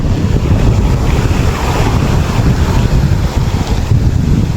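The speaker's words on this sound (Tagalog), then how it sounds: "Yan guys, sobrang alon." Heavy surf from big sea waves breaks continuously on a beach shore with cottages, a loud, steady roar with strong wind buffeting the microphone throughout.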